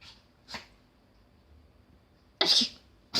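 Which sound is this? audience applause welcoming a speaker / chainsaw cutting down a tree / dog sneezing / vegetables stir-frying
dog sneezing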